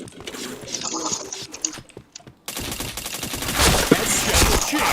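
Rapid bursts of video game gunfire crackle in dense rattling volleys, louder and continuous in the second half after a brief pause, mixed with faint keyboard clicks.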